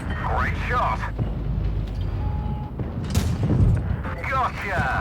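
Tank cannon shots in an online tank battle game, heavy booming blasts with rumbling low end, mixed with game effects and a voice talking through much of it.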